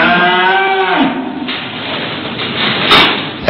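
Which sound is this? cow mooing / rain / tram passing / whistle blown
cow mooing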